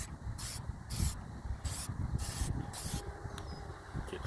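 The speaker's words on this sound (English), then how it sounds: "I also spray painted" High-heat spray paint hisses from an aerosol can onto a rusted, weather-beaten BBQ grill in short repeated bursts, about seven quick sprays with brief gaps, close and bright.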